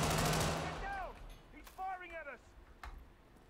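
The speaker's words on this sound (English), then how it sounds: "No, I'm just shooting you." Gunfire in the video game Hitman 3, a few sharp bursts of shots amid game effects and tonal chirps, with someone talking over the action.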